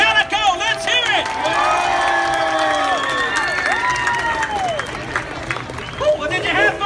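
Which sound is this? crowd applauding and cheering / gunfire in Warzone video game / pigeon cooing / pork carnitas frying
crowd applauding and cheering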